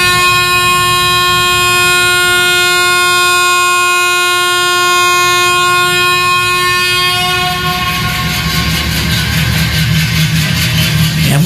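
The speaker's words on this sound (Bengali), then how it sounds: "বেশিক্ষণ নয়, মিনিট 5 থামার পরই ছেড়ে দিল ট্রেন।" A train pulls away from a station on a rainy night, its long horn blaring loudly at first, then wheels starting a rhythmic clickety-clack as it gathers speed.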